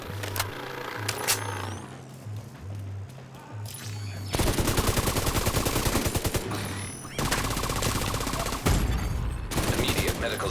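Sustained automatic gunfire in The Division 2 video game, loud rapid bursts with short pauses between volleys, layered over a low droning game soundtrack.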